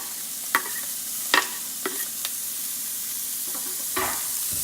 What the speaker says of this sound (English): So I'm starting the dish off with just onions because the onions, I want them to caramelize.